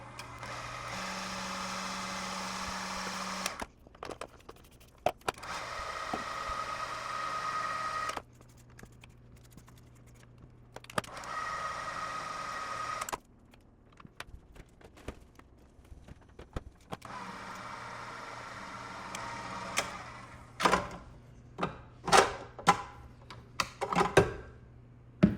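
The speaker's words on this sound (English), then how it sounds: "And then I'm gonna let the mixer mix," An electric hand mixer beating muffin batter of wet and dry ingredients runs in several long steady whirring stretches, stopping and starting between bursts, followed by a few sharp knocks and clatters near the end.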